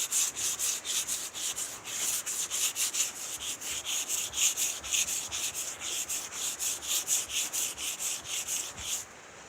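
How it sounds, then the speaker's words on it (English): Steady, repetitive hand wet-sanding strokes on paint rasping back and forth at a brisk even pace, close up, continuing without pause or speech. "Without that wet sanding, you can't get it real slick like you want."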